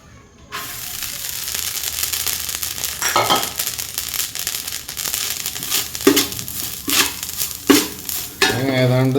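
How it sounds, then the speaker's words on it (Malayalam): Grated coconut, one whole coconut's worth, is dry-roasted in a pan until lightly browned, with steady close sizzling and repeated scraping and stirring strokes, occasional utensil clinks, and no voices. "ഇനി അടുത്തത് നമ്മൾ തേങ്ങ വറക്കാനാണ്."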